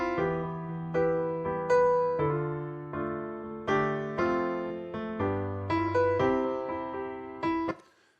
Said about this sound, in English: We've got a piano. Let's solo this, give you a quick sample of this.